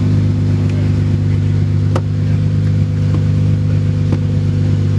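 A big-turbo Lexus GS300 engine idles steadily around 1,000 RPM just after its first start, a loud, close, even droning rumble with a couple of faint clicks.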